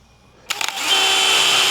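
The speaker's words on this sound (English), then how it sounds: "We're gonna use a drill and a jigsaw to make that all happen." A power drill spins up after a few quick clicks and then whines steadily and loudly up close while boring through a template opening for ducted mini split ductwork in a pole barn.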